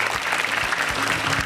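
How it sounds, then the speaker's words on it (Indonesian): A comedy show audience applauds a stand-up comedian, a dense, sustained burst of clapping from a large crowd heard for a moment with no clear speech over it. "Oke tepuk tangan buat Kak Selin."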